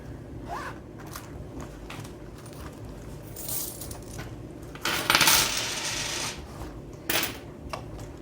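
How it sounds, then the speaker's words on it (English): Coins from a wallet dropped into a savings jar, heard as scattered light metallic clinks, then a louder cluster of rattling coins in the middle and a few more single drops, close and alone. "I do have some more coins to add from my wallet, so let's do that."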